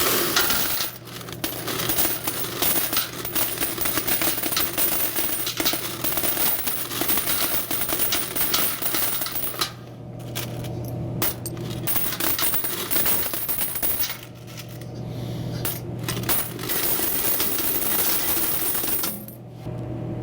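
Coins are gathered from a soda machine's coin box in a steady, dense metallic jingle and clatter that runs loud and close throughout, with a couple of brief lulls.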